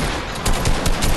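Video game gunfire in a squads match, a quick burst of several sharp shots in close succession, loud and near, with no talk over it.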